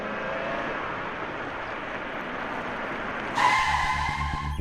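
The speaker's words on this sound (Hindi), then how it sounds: "लो गाड़ी भी आ गई।" A car arrives with a steady, loud whoosh of engine and road noise that surges abruptly into a sharper, harsher rush near the end.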